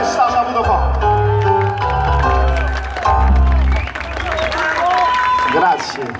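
An audience at a concert celebrating an Italian singer's fifty-year career applauds and murmurs, a crowd wash sitting under louder voices and musical tones that carry through the whole stretch.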